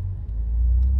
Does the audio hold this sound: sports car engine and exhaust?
yes